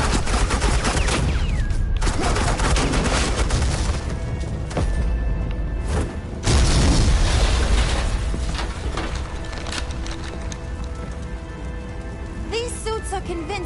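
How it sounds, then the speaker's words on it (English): Suppressing gunfire from Agent Quinn in Batman: The Enemy Within, a dense, continuous loud volley of shots lasting throughout with brief breaks and rumbling booms, with a voice in the mix. "This is Agent Quinn, suppressing fire."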